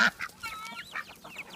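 Two farm geese give short honking calls, several scattered squawks over a second or so, fairly close, with no talking.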